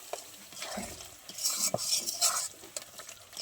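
Thick spice gravy being stirred and sautéed in a pan for an eggplant dish, soft sizzling under repeated scraping spoon strokes and light metallic clinks, close and moderately quiet.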